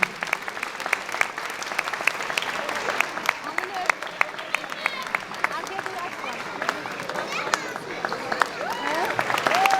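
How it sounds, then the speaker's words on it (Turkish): Wedding guests clap steadily at a Turkish wedding with a Black Sea horon dance troupe, a continuous mid-level applause with sharper individual claps standing out and faint voices and chatter underneath. "efendim sizlerden güzel bir kuvvetli mutluluk alkışlarını rica ediyorum."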